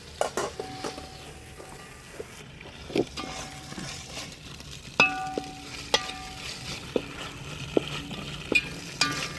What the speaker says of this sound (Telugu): ఒక మీడియం సైజ్ టమాటా సన్నగా కట్ చేసేసుకుని వేసుకుంటున్నాను